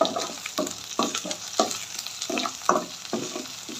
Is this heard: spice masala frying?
yes